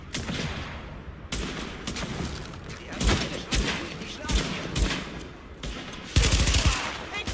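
Rapid bursts of automatic gunfire from the video game The Division, loud and close, firing in repeated volleys with brief pauses and sharp heavier shots.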